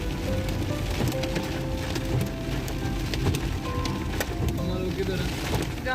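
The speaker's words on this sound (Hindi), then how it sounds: "ओ माय गॉड, ओले ही नहीं रुक रहे, पता है।" Hail pelting down in a dense, continuous patter of hard impacts with scattered sharper cracks, fairly close and steady throughout, with a faint voice underneath.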